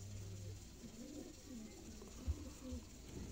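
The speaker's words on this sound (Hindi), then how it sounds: "अली वाले कबूतर दोस्तों" Soft, low coos from Sialkoti Ali wale pigeons murmur repeatedly in a quiet room, faint and close together.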